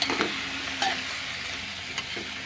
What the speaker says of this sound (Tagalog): Tumagitsit na guys. Halu-haluin natin yan.